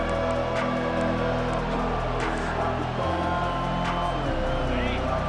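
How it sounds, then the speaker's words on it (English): A stadium crowd in the College Football 25 video game roars continuously and loudly, with rising cheers behind a play-by-play commentator talking over it. "The roar of the crowd trying to fuel this defense to keep them pinned in their own end."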